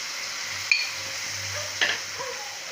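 Boiled moong beans tipped into sizzling masala in a pan over lowered heat for a home moong curry, then stirred, giving a steady soft fry hiss with two brief clattering scrapes.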